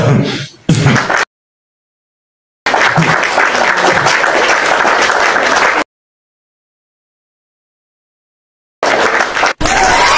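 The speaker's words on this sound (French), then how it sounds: "Je vais t'applaudir d'abord" Audience applause in bursts with abrupt silent gaps, loud and dense clapping from a crowd at a show of support for a rapper, cut off and resuming several times.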